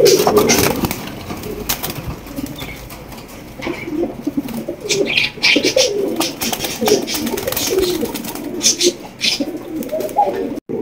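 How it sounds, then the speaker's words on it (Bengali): A large pair of king pigeons coo nearby in low, rolling, repeated calls, with faint rustles and flutters around them. "এখানে কিন্তু রয়েছে এক জোড়া কিং কবুতর, বিশাল বড় সাইজের মাশাআল্লাহ।"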